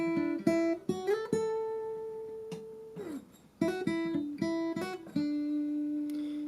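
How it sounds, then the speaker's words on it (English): Acoustic guitar plays the intro lick of a song: clear picked notes and slides in two similar phrases separated by a short pause, with sustained notes ringing out alone and close. "there's also an acoustic intro lick, which sounds like this"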